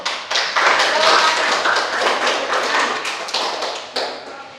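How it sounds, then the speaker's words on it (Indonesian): A class of students clapping their hands together in a classroom, a thick burst of overlapping claps that starts sharply and carries on evenly, with a brief louder flurry near the end. "Coba tepuk tangan dulu."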